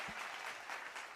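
Audience applause at a product launch event in a Nakuru hotel: a dense, steady wash of clapping from a crowd, moderately distant and even throughout, briefly.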